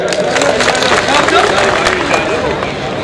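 A crowd at a shayari poetry gathering breaks into loud, dense, continuous clapping, with voices mingling in the applause.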